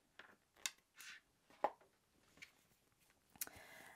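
A few soft, close scissor snips trim crochet yarn on a face mask adapter, quiet isolated clicks spread over a few seconds with no talking.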